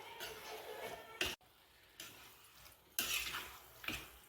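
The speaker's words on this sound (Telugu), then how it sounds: "అన్నీ వేసుకుని మొత్తం బాగా కలుపుకున్నాం." A spoon scrapes and clinks through an eggplant and prawn curry in a pan, a few separate stirring strokes with short pauses between them and a faint sizzle underneath.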